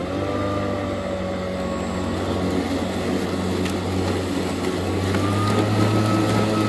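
A GreenWorks electric lawn mower, cutting height set to 4 inches and run without self-propel, cuts grass with a steady, loud, close motor drone and a low hum that continues without a break.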